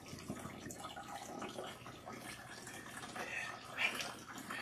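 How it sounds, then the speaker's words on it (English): Running water from a tap while shampoo is rinsed out of natural hair, a steady splashing wash that is fairly faint and continuous throughout. "Rinse out the shampoo until you see that the water is nice and clean."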